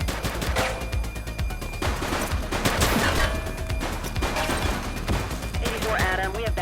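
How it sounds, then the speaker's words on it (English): Rapid bursts of gunfire from a shooting suspect during a police shootout in The Precinct, dense volleys of loud, crackling shots back to back with clattering impacts and a few brief radio-like tones. "He's shooting!"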